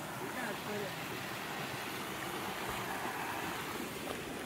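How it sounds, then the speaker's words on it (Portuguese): Rushing water at a waterfall, a steady broadband roar without breaks, moderately loud and close throughout. "Chegamos aqui na cachoeira aqui, ó."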